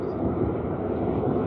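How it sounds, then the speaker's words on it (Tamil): An airplane taking off nearby, a loud, steady broadband engine roar holding throughout the short moment with no break. "ஓ காட், ஃப்ளைட் ஒன்று டேக் ஆஃப் ஆயினது."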